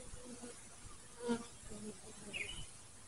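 Honeybees in a sparsely populated Flow Hive hum and buzz faintly during an outdoor inspection, with a soft, low drone and a couple of passing buzzes close to the microphone.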